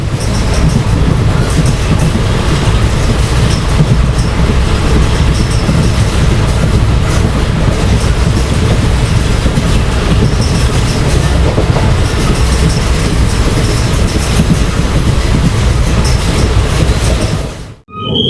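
A 12603 Hyderabad Superfast Express train runs from Chennai toward Hyderabad with a steady, loud onboard roar and rumble of wheels on rails, rhythmic clatter throughout, ending abruptly.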